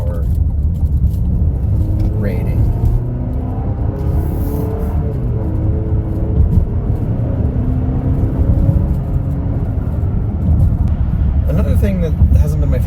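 A 2025 GMC Acadia Denali with a 328-horsepower turbo engine is under way while accelerating. A steady low rumble of engine and road noise fills the cabin throughout, with no sharp revving peaks.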